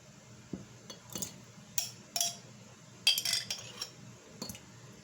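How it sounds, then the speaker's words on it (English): Coconut jelly cubes spooned into a bubble tea glass, giving a handful of separate light clinks and taps of utensil on glass, close and sparse against a quiet room. "Now time to add in the coconut jelly."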